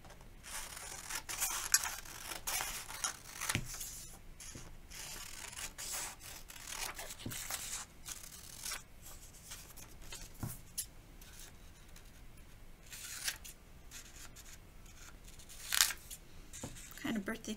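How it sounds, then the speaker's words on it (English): Scissors snip out paper word cards in short, quiet bursts of cutting and paper rustle, spaced irregularly and close by, in an otherwise hushed room. "And then we're going to cut out these."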